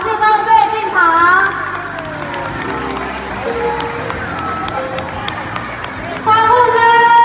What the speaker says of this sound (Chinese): 欢呼声 不要断，继续